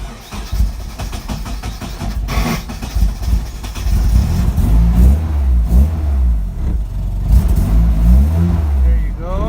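Turbocharged KA engine in a Nissan 240SX being started and given gas, rising into repeated revs that grow louder through the second half, with people talking over it.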